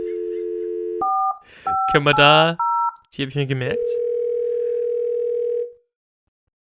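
Telephone in the Thimbleweed Park video game: steady dial tones and beeping key tones, with a long held tone at the end, clear and close, while someone talks in between.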